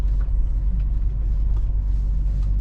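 Deep, steady low rumble of a stock car engine idling and creeping along as it is moved into a parking spot, loud and close with no voices.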